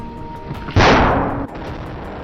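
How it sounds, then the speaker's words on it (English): A single rifle shot fired while hunting wild boar on a hillside, one sudden loud crack that decays over about a second into a fading echo above a steady outdoor background. "The shot rang out, and the boar collapsed, tumbling down the hillside by momentum."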